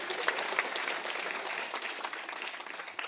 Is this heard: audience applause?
yes